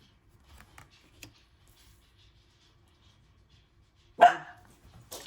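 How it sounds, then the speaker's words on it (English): A dog barks once in the background of a quiet indoor space. The single bark is sharp and fairly distant, followed by a brief faint noise. "that is my dog in the background"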